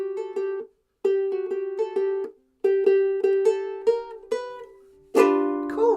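Ukulele played with a split strum at tempo, bright plucked chords in quick rhythmic bursts with short muted gaps between phrases, close and clear with no talking.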